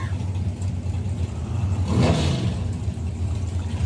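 Two drag racing cars launch off the line at a European finals event, engines surging into a loud, rising roar that peaks mid-clip over a steady low rumble and then eases back.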